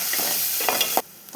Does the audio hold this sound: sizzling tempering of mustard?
yes